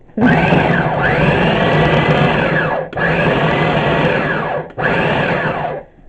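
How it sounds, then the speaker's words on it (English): A small countertop food processor chops pickles for garlic dill relish, a loud whirring motor hum run in three bursts with brief dips between them and no talk over it. "we have this little tiny food processor, and it's going to be chopped"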